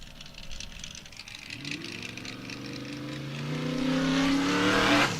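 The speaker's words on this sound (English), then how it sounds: "And another UTV off the line in the 4400 class is Mark McCleary, number 4717 out of Reddick" A Can-Am Maverick UTV in the 4400 class launches off the start line at a desert race in Broadview, Montana, its engine note rising steadily in pitch and loudness as it accelerates away, with no talk over it.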